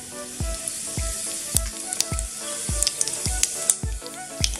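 Cumin seeds sizzle in hot oil in a pot while being stirred, with a crackling hiss and regular spoon knocks against the vessel about every half second, close and fairly loud.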